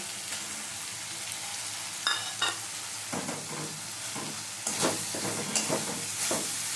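Fried amudi fish stirred into a pan of spices, steady frying sizzle throughout with several louder scraping stirs and clatters of the utensil against the pan, no talking.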